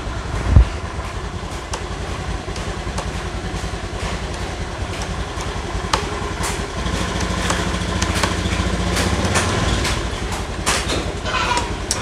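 A used 2013 Honda Beat FI scooter with an ACG starter fires up with a short start-up burst, then settles into a loud, steady close-up idle with an even puttering drone throughout.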